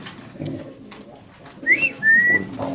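Pigeons kept for sale in Bangladesh give soft low cooing, joined by a couple of brief, clear whistling chirps near the end, fairly close.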